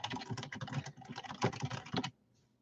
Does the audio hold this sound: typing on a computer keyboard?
yes